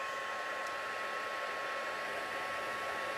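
A heat embossing tool blows a steady, close, even whoosh while warming embossing powder on a birthday card, with no talk.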